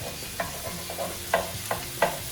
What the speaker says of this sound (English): Give this another little stir. So this is going to cook for quite a bit.